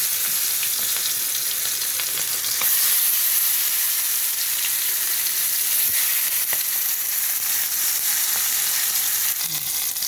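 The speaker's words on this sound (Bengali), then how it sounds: "এখন আমি তেলের মধ্যে মাছগুলো ভেজে নেব" Fish rubbed with salt and turmeric frying in hot oil, a continuous bright sizzle that holds steady and close throughout, with faint stirring clicks and no talking.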